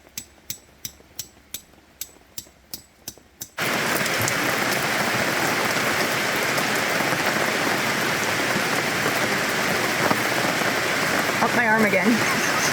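A Vancouver Island rainstorm pours onto a tent campsite. About eight evenly spaced taps come first, then a sudden loud, dense, steady downpour drums close by, with a brief voice near the end.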